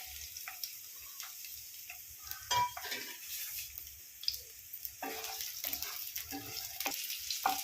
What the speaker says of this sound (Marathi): कांदा आणि शिमला मिरची 2 ते 3 मिनिट तेलामध्ये फ्राय करून घ्यायची आहे